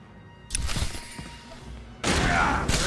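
Blaster gunfire erupts in Star Wars: The Old Republic, a loud burst of rapid shots, a pause, then a second sustained volley close up.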